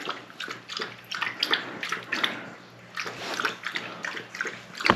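Water is poured and splashed into a bowl for a dog to drink, with irregular sloshing bursts and lapping-like splatters at close range, fairly quiet.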